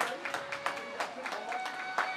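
An audience at a school farewell gathering applauds, a busy spatter of hand claps spread across the room, steady and moderately loud with no talk on top.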